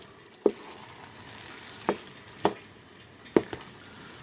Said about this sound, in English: just put in some Parmesan cheese. And we'll give this a stir.